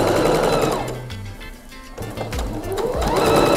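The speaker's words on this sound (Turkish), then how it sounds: "Standart düz dikiş ayarımızda içten dikişimizi atıyoruz." A domestic sewing machine runs a standard straight seam through linen fabric for a kimono, whirring loudly and steadily, slowing briefly with a few short stuttering stitches before speeding up again.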